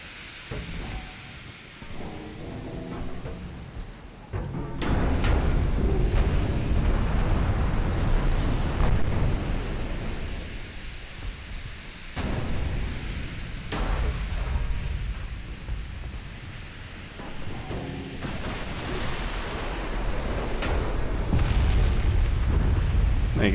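Naval guns firing high-explosive shells in a naval video game, a dense, continuous rumble of booming shots and explosions, loud and sustained, with no talk.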